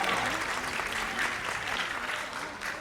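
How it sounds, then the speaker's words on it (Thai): Applause from the audience at a Thai film gala premiere, a dense, even roar of many hands clapping, moderately distant and sustained throughout. "ปรบมือให้ไบรท์วัชรวิทย์ครับ"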